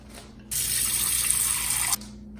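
Water runs from a tap into a dog's water bowl in a home, a steady, bright rushing stream lasting about a second and a half and then cut off, with no talking.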